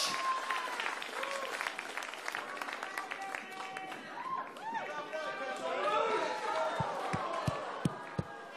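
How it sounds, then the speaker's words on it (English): An audience applauds and cheers as beauty pageant contestants leave the stage at a national grand final, a broad crowd roar with chatter mixed in and sharp thuds near the end. "a round of applause for our contestants as they leave the"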